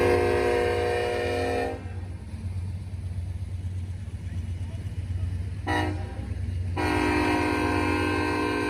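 Freight train hauled by ES40 locomotives passing close, its loud horn blaring in long blasts, breaking off while the rumbling cars roll by, then sounding again near the end.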